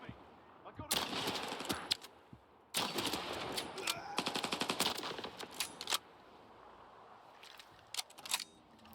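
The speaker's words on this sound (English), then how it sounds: "don't run out into random sniper fire" Gunfire in the video game S.T.A.L.K.E.R 2, with loud bursts of rapid shots in clusters and single cracks scattered between quieter gaps, some sharp and close, others fainter.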